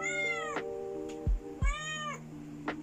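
A pet cat meows twice in a talkative way, each call rising then falling, heard close and clear in a quiet room between soft thumps.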